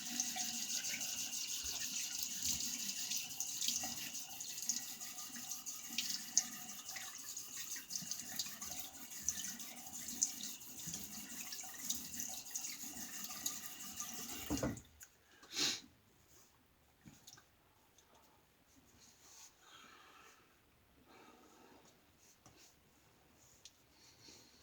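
Water runs steadily from a tap for a rinse after a shave, a constant close splashing stream for about fifteen seconds before it shuts off, followed by quieter bathroom handling sounds.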